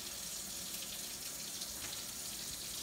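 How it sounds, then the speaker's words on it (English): Tap water runs steadily from a sink faucet during a foot care skills demonstration, a soft, even hiss that continues without a break, alone and fairly quiet. "remember not to turn off the faucet until you've dried your hands."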